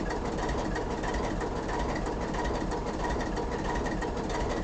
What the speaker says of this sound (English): Calico and Turpin Springs Alco number 32 ties up near the head of the spur.